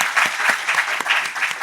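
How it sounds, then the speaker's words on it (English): Audience applause fills a symposium closing ceremony, a steady dense patter of many hands clapping close and loud, with no voices over it. "So another applause."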